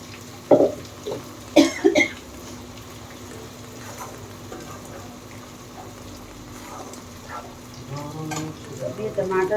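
Ground tomato purée frying in a pan on a gas stove, a steady soft sizzle with a few sharp clatters of a spoon early on and a louder bubbling spatter building near the end.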